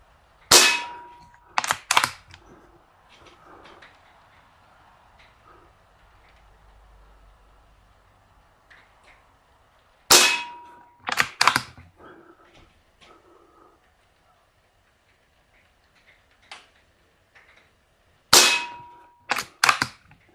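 Three pairs of sharp, loud shots from an Umarex Fusion 2 CO2 .177 bolt-action pellet rifle, each pair or triple spaced about eight seconds apart with a quiet stretch between groups.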